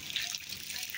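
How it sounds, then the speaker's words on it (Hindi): Mountain water constantly falling beside a rock-cut cave at Elephanta Island, Mumbai, giving a steady bright splashing and trickling that fills the short moment. "देखिए दोस्त, पहाड़ का पानी गिर रहा है।"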